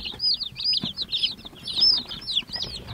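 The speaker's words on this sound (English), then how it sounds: "So we have 55 chickens in here." Dense chorus of about 55 meat chickens chirping and peeping close by in a coop, with soft low clucks underneath, continuous and busy with no pauses.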